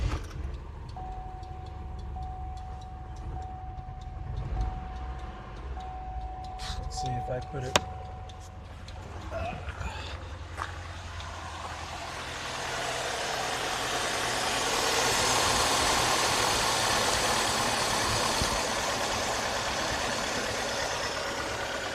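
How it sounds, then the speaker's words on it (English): A misfiring 2.2L Ecotec car engine idles with a rough, uneven rumble while a person talks briefly nearby, then the running noise swells into a steady broadband roar. "Let me turn on the engine. You can hear what it sounds like"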